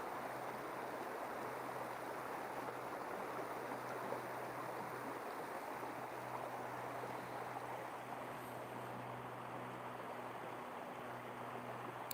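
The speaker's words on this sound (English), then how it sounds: "Nice stream, nice flowing water." Steady flowing stream water at a trout fishing spot in New Jersey, a continuous even rush with no breaks, moderately close and alone without talk.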